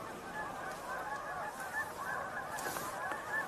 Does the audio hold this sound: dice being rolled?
no